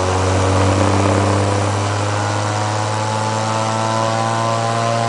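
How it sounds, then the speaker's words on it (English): A DC pulse motor spins up after its load is disconnected, a loud continuous mechanical hum with strong steady tones and no talking. "So when we disconnect the load, you can see the RPMs increase considerably."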